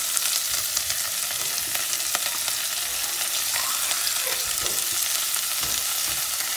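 Vegetables and onions frying in a pan for a homemade tart, a continuous bright sizzle and crackle with occasional stirring scrapes, close up and steady, no voices.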